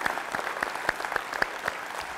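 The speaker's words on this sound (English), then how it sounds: "Let's give him another round of applause, but this time generously." An audience at a motivational speech claps in a steady round of applause, with separate sharp claps standing out over the wash and no talk on top.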